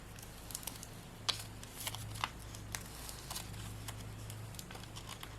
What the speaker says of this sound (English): And then we are going to peel up that clear film on the back.